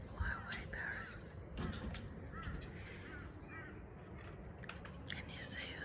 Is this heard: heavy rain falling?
no